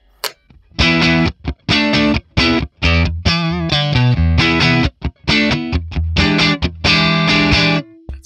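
A Stratocaster played dry through a Friedman PLEX amp capture with no reverb, giving crunchy, distorted chords in strummed bursts with short gaps and a busier picked run in the middle, close and loud with no voices.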